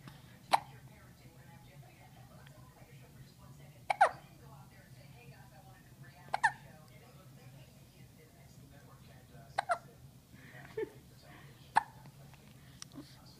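A young girl hiccups repeatedly, about six sharp, short hiccups spaced a couple of seconds apart, close and fairly soft over a low background hum.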